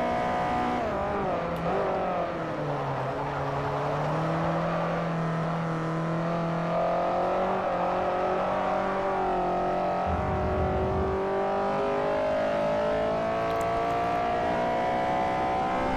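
Race car in Forza Motorsport 4 on a Class D Asian Tour, engine droning and rising and falling in pitch through gear changes for a sustained stretch, loud and close with no talk.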